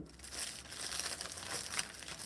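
A plastic bag holding a custom keyboard crinkles and rustles continuously as it is handled close up, soft crackling with no voices.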